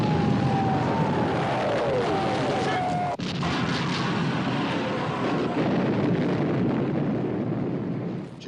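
Battleship guns firing and shells exploding in a 1960 film about the sinking of the Bismarck, a dense, continuous roar of heavy blasts with one sharp report midway, loud and close throughout.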